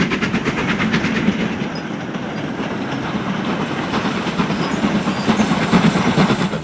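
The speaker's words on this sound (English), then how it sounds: "trains are attacking the 4 miles of 1 in 75 leading up to Shap Summit" A train climbing the 1 in 75 gradient toward Shap Summit, a steady rumbling roll with rhythmic clickety-clack of wheels, loud and sustained throughout.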